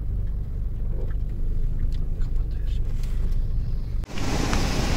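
Car engine and road noise rumble close and steady while driving through slow traffic in the back streets of Mecca, with a brief dip near the end before a louder whooshing rush.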